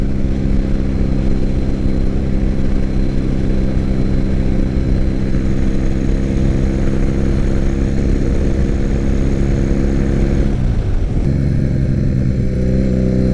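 A freshly revived 2006 Triumph Bonneville motorcycle runs at speed on a first ride, its engine drone loud and steady with strong low harmonics, then a shift and a falling pitch as it slows near the end.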